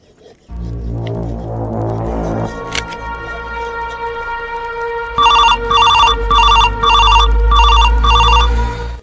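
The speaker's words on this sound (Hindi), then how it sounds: "धर्मिंदर का फोन आया, ले आके दे दो।" A telephone rings loudly in a steady rhythm of repeated electronic bursts, each ring a bright warbling tone separated by short gaps, preceded by a sustained humming drone and a sharp click.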